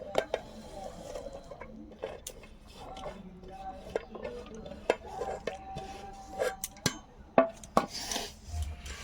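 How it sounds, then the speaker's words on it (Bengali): Momo filling of cabbage, carrot, capsicum and onion is mixed by hand in a bowl, with quiet rustling and scattered light clinks and taps of utensils against the dish. "এবার এটাকে মিলিয়ে নিব ভালো করে।"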